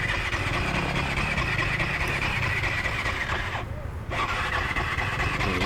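A Honda CRF450L motorcycle with starter gear grinding from badly set gear-mesh backlash: a continuous, close, rough engine and mechanical drone with a brief dip partway through.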